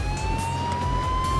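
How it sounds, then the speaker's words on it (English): A loud, steady emergency siren wails in the H1Z1 battle royale video game, with its rising tones sweeping over constant rumbling vehicle noise. No one speaks. "There's sirens!"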